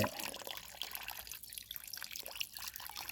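A tap runs gently into a sink while fish is rinsed for Thai fermented fish, giving a soft, faint, steady trickle with light drips.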